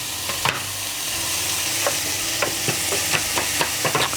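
Butter and ingredients sweat in a pan over lowered heat, with a gentle continuous sizzle and repeated scraping stirs in an irregular rhythm, close and fairly clear.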